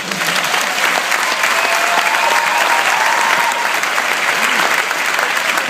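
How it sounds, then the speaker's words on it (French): Audience at a stand-up comedy show in a Paris theatre breaks into loud, sustained applause, a dense, continuous roar of clapping close and full, with faint voices mixed in. "applaudissez-moi"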